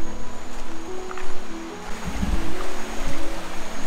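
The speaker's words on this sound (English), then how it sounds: "this river feels really, really wild" Wild river in the Ecuadorian Amazon jungle rushing in a continuous broad wash of water, with a few faint low thumps partway through.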